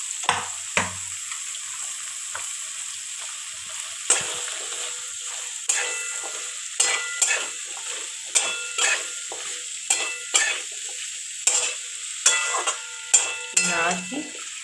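Pumpkin pieces frying in oil, a steady sizzle underneath regular scraping stirs of a spatula against the pan, repeating every second or so and growing more frequent.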